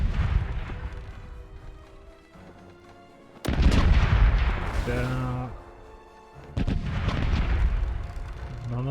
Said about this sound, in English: Starboard cannons are ready to fire!